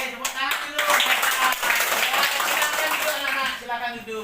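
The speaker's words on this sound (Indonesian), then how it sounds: "Oke, tepuk tangan dulu." Schoolchildren at an Indonesian state primary school clapping together in a classroom, a burst of many small hands that starts with a few sharp claps, swells into busy group clapping and tails off, with voices mixed in underneath.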